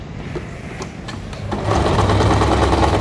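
A sewing machine stitches elastic into a trouser waistband, starting with light clicking and then running into a steady, loud mechanical whir for the last half, close up with no speech.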